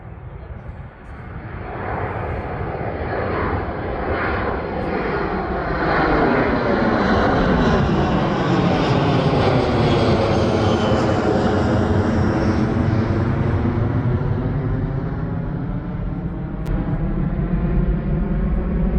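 A fixed-wing airplane taking off nearby, its engine roar swelling loud and steady with a sweeping pitch as it passes, sustained throughout with faint voices beneath.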